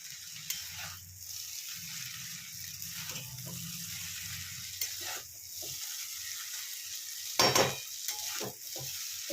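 Chowmein noodles stir-fried and tossed in ghee, a soft sizzling hiss with intermittent scraping and clattering mixing strokes, including one louder clatter near the end, and no voice.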